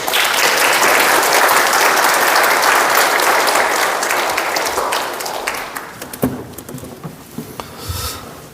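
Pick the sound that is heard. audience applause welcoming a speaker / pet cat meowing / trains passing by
audience applause welcoming a speaker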